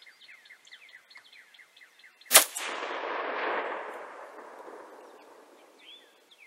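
A single loud, sharp Chinese SKS rifle shot at a steel double gong spinning target, followed by a long rolling echo that fades over several seconds, with birds chirping in the background before the shot.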